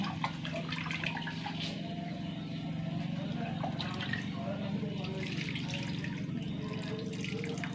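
Water pours steadily into a cooking pan holding coriander and asafoetida powder for a lentil dish. The continuous rushing pour runs under a woman's speech.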